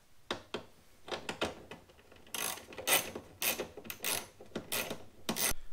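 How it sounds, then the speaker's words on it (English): A 9/32 wrench loosens the tail light bolts on a Saturn Sky, making close metallic clicks and ratcheting scrapes in short uneven bursts, with no talking. "So I'm going to go ahead and unscrew those bolts"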